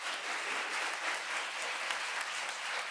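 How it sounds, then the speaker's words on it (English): Steady applause from the audience at a fall capstone showcase evening of student mobile app projects, dense even clapping sustained evenly throughout with no voices over it. "Let's give them a round of applause."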